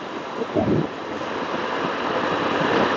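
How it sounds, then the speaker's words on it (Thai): Constant broadband road and wind rumble from a motorcycle riding at around 50 to 60 km/h, picked up through a Bluetooth headset on a half-face helmet, with a brief louder gust early on and no speech. "อันนี้คือเสียงบนท้องถนน"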